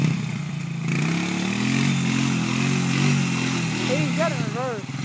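A 350 Rancher ATV engine drones steadily as it churns through mud, its pitch shifting as it strains, while people shout and talk over the noise.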